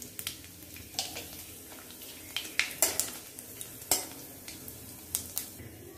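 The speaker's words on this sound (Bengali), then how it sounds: "তেলের মধ্যে দিয়ে দেব তেজপাতা, শুকনো লঙ্কা আর কালো জিরে ফোড়ন।" Bay leaf, dried red chili and nigella seeds fry in hot oil in a pan, with a soft sizzle under scattered clinks of a metal spoon against the cookware.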